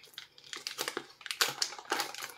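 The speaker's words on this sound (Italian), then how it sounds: "qua bisogna usare le forbici perché è impossibile da aprire" Scissors cut open the crinkly plastic packaging of a Mommy Long Legs plush toy, a quick series of close, quiet snips and crinkles in an irregular rhythm.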